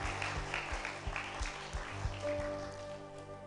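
A church congregation applauds God after prayer, a faint, distant patter of many hands clapping in a steady rhythm.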